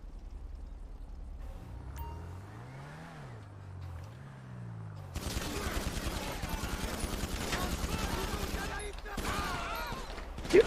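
Rapid video game gunfire rattles in quick bursts over a running vehicle engine. A rising and falling engine drone comes first, then dense, moderately loud shooting fills the second half, with a short gap before a final burst.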